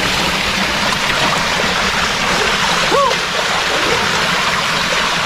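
The Aare river in Switzerland flows in a steady, broad rush of water, loud and close throughout, with a faint brief whistle-like sound partway through.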